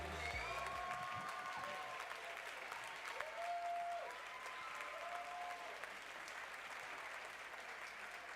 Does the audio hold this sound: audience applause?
yes